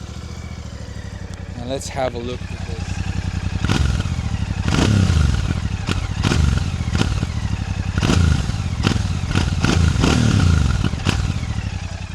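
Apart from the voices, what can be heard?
Royal Enfield Classic 650 motorcycle starting and exhaust revving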